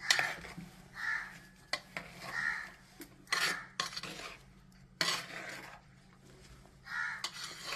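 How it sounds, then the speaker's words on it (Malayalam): Jackfruit aviyal being stirred in a pot, repeated metal spoon scrapes and knocks against the vessel in uneven bursts, fairly quiet, with a crow cawing faintly in the background. "നന്നായിട്ട് ഇളക്കുക"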